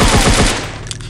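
Rapid automatic gunfire from a free offline mobile shooter video game, a dense rattling burst of shots in the first half that eases off into quieter game sounds.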